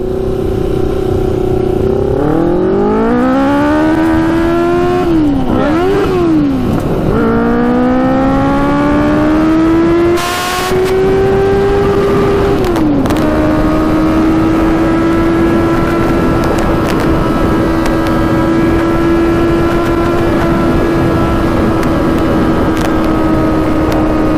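A 100HP Yamaha Banshee quad roars hard up through its gears, the loud engine pitch climbing, dropping sharply at each shift and climbing again, then holding a steady high-speed howl with no speech over it.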